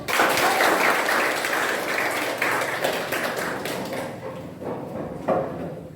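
A school class claps hands together in a brisk burst of applause, fairly close, fading gradually over several seconds.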